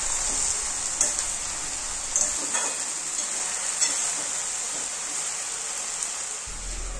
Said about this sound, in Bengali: খুন্তি দিয়ে আবার হালকা নাড়াচাড়া করে দিয়ে ঢাকা দিয়ে দেব।